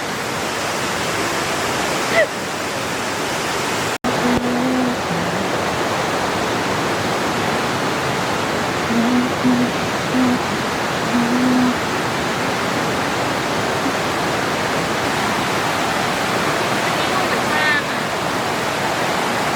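Mae Ya waterfall in Chiang Mai roars as a steady, loud, unbroken rush of falling water throughout, with a few brief voices faintly audible beneath it.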